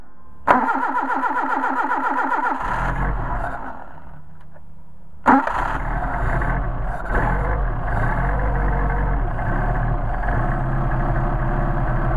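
A car engine fitted with Solex 44PHH carburetors cranks and catches, dies, then restarts with a sharp burst and settles into a steady, loud idle, alone without talk.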